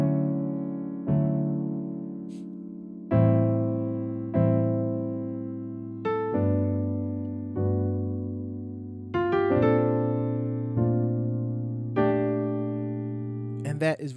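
Slow piano chords of a song, each struck and left to ring and fade before the next, played one after another at an unhurried pace.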